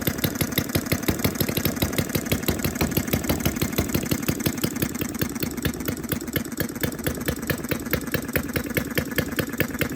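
A scale model of a Fairbanks Model Z hit-and-miss engine runs close by, a quick, steady train of sharp mechanical knocks and clicks over a continuous buzzing drone, even and unbroken throughout with no voices.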